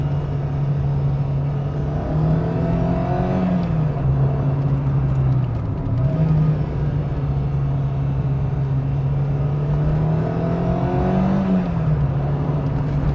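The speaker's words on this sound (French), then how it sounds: "le bruit moteur il est quand même assez présent quand on le laisse haut dans les tours" A Renault Clio engine hums steadily at high revs, its pitch rising and dipping slightly as the throttle shifts, loud and close with no talking.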